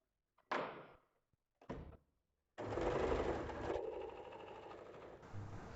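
A sewing machine stitching nighty fabric: two short bursts of stitching, then a longer steady whirring run that changes pitch partway through, close and moderately quiet.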